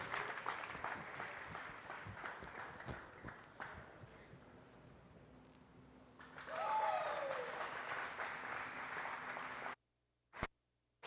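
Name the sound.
audience applause for the cattle show exhibitors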